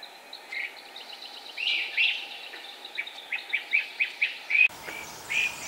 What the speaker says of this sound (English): Who knew how much noise a family of great crested flycatchers could make?